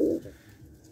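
A Rajshahi Giribaz pigeon gives a short, low coo at the start, close and fairly loud, then fades into quiet background noise.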